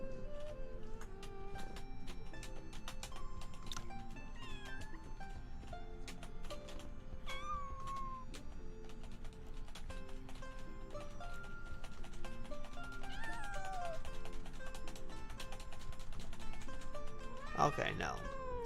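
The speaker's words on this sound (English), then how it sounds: "So it will not let me pet the cat." A cat in the video game The Wandering Sword meows several times, the short rising and falling calls sitting over continuous game music while a player talks.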